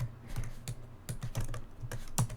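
Keys clatter in quick irregular bursts as someone types a pip install command on a computer keyboard, close and clear with short pauses between clusters of strokes.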